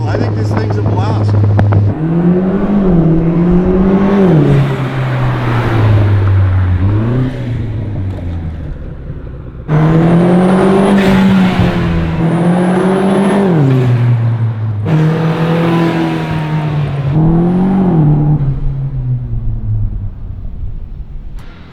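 Engine of a 2017 Vanderhall Venice while driving, a throaty drone rising and falling through gear changes and revs, with a break before climbing again, loud and close, with people talking over it at times.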